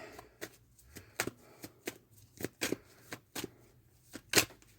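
Tarot cards shuffled by hand in a quiet room, a series of quick riffling snaps and soft slaps at an uneven rhythm, close and fairly loud against near silence.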